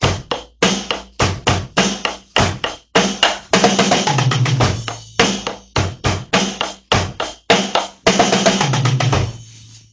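A drum kit plays a steady beat with quick rolls between phrases, loud and close, with sharp hits and ringing decays and no voices.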